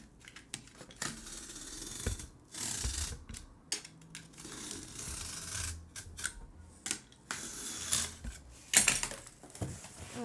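Cardboard being cut and scraped with a blade against a ruler for a cat's cardboard castle, giving close, uneven bursts of rasping, tearing strokes with short gaps between them.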